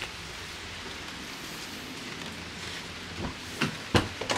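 Steady autumn rain falls outdoors on a windy street, a continuous even hiss with a few louder knocks and patters near the end.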